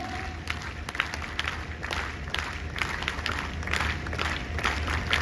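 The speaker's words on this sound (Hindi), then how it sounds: "एक बार वीर ताली।" Applause from a crowd at an Arya Veer Sena gathering, a steady dense patter of many hands clapping at moderate distance throughout, with faint crowd noise underneath.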